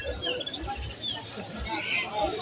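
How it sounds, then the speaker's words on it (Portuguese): Small caged birds at an outdoor animal market chirp in bright, scattered calls over a steady crowd murmur, with people talking nearby. "Pode gravar os passarinhos?"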